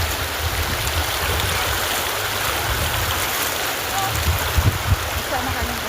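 River water flowing around people crossing a deep river on a mountain trek, a loud continuous rushing wash with a few splashes near the end.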